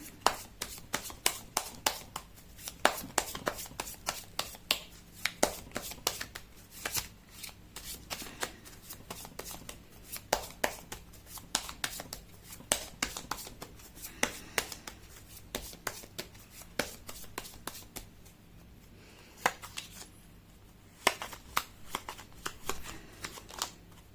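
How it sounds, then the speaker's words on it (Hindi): Tarot cards shuffled by hand in a steady run of crisp, riffling flutters and taps, close and fairly loud, continuing with short pauses and no talking. "मैं कर लेती हूँ कार्ड की शफलिंग।"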